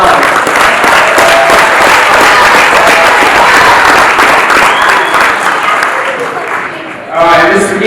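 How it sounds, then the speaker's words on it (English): Audience applause fills a youth wrestling banquet hall, loud, dense and steady for about seven seconds, then tapers off as a voice begins speaking at the end. "Give a round of applause for Alex."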